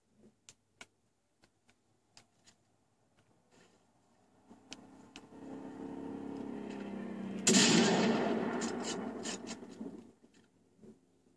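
Gunfire at a car in Far Cry 3, starting with scattered sharp isolated shots, then a rising rumble of engine and impacts that bursts into a loud, dense crash of shots and debris before fading.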